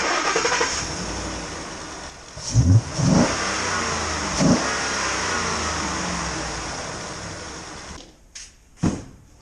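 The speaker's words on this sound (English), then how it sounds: "I'm going to give it a couple of revs so that you can hear it" A Ford 5.0 Coyote V8 engine with its factory intake revs up in a few sharp bursts over a steady idle, loud and close, with brief pauses between throttle blips.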